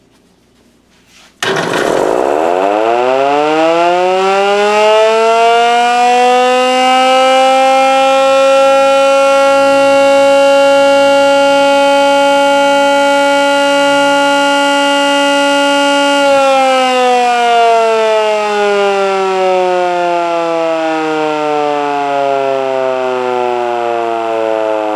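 A Model 2 civil defense siren runs up for one cycle: a loud, close rising wail that climbs in pitch after a brief quiet start, holds steady, then slowly winds down with a falling tone.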